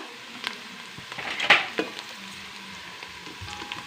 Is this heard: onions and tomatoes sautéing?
yes